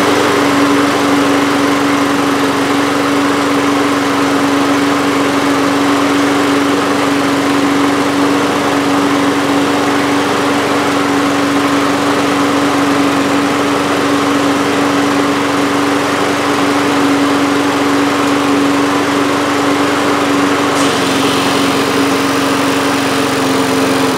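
A Toro Recycler lawn mower engine runs steadily at close range, a loud, unbroken drone with a strong, even hum that shifts slightly near the end. No one speaks.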